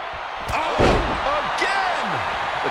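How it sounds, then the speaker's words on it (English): A wrestler gets body slammed in a WWE wrestling video game, landing as one heavy, booming thud amid loud arena crowd noise, with commentary voices running over the scene. "the human body was not meant to be slammed like that"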